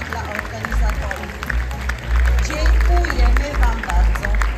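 An audience at the closing of a theatre festival applauds the organizers, with dense clapping swelling louder partway through amid crowd chatter and voices close by.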